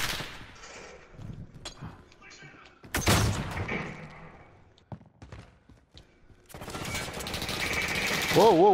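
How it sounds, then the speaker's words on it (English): Gunfire in the game Call of Duty Modern Warfare, with bursts of automatic fire and single sharp shots in uneven clusters, some loud and close, others softer, alongside a player talking excitedly. "Oh, somebody's shooting at me."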